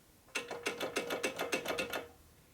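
Valve grinding machine working on a Harley-Davidson FXR valve, a quiet setting with about eight regular rasping, whirring strokes that rise and fall in close succession, then stop.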